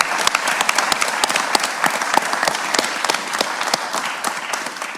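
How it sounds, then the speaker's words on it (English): An audience at a university student pitch competition final applauds for the student founders, a dense patter of many hands clapping loudly and continuously for several seconds. "can we have a round of applause for our 40 Acres founders"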